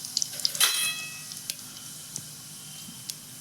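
Cumin, mustard seeds and asafoetida hit hot oil for a mixed vegetable sabji. A sudden burst of sizzling fades into a quieter hiss, with scattered sharp pops of seeds spluttering close by.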